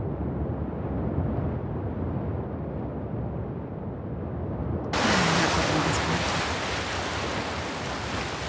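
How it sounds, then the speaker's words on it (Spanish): Ocean waves surge and wash continuously while a character swims in The Last of Us Part II, a loud steady roar that brightens and swells into a fuller crash of surf about halfway through. "muchas olas, lo ideal es nadar por debajo de ellas"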